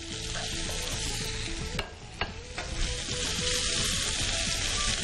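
Shrimp and squid fry loudly in a pan for a seafood pasta, with a steady close sizzle broken by a few stirring scrapes around the middle.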